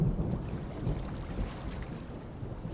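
A boat moves along a jungle-lined river toward a village, with a low rumbling wash of water and wind buffeting the microphone steadily throughout.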